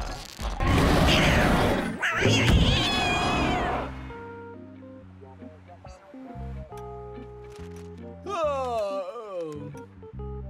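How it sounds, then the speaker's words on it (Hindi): Cartoon cat meows, a few drawn-out squeaky mews mixed with excited talking at first, then a cartoon music score carries on with one more rising meow near the end. "ओ क्यूटी, हेलो छोटी बिल्ली, कितनी क्यूट है ये।"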